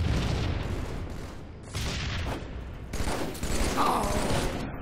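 Video game gunfire, dense and continuous, with rapid shots and booming impacts layered over constant noisy game ambience, loud throughout.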